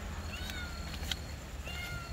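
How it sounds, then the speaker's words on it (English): A faint cat meows a few times, short rising calls spaced apart over a quiet background hum. "One's meowing over there."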